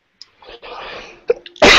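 A single sneeze bursts out loudly near the end, after some quiet shuffling and murmuring in a classroom during a statistics lesson.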